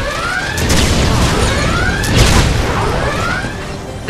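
Explosions rip through a Ratchet & Clank: Full Frontal Assault turret battle, several booming blasts and crashes layered over continuous game effects and mechanical whirs, loud and dense throughout.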